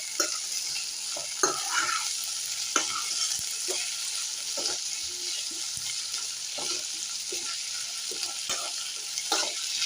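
Green chillies, cumin, coriander and mint fry in hot oil in a kadai, a soft continuous sizzle broken by scattered scrapes and clicks of a stirring spoon, with no talking.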